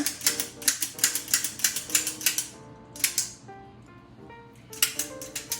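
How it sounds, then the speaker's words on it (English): A cookie press plunger is pushed down to force spritz cookie dough through, giving a quick run of sharp, ratcheting clicks, a short pause, then another burst of clicks. "Now I'm going to depress the plunger."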